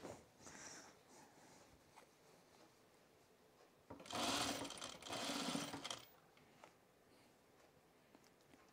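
A sewing machine stitching a Sylvan jacket runs in two short bursts of rapid mechanical whirring around the middle, surrounded by quiet handling rustles and soft bumps.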